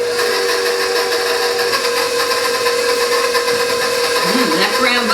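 An electric mixer beats an egg into brown butter bourbon pecan cookie dough, a loud, steady mechanical whir with a constant motor hum that wavers slightly near the end; no talking.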